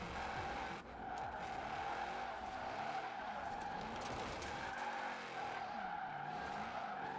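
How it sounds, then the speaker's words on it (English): Shelby 1000 drifting in Forza Horizon 4, engine roaring with a continuous tire squeal and skidding through a drift, loud and sustained with shifting engine pitch. "But it definitely wants to drift."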